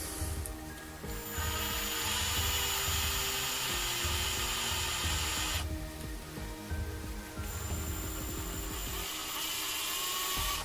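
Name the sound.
drill spinning a Harbor Freight drill bit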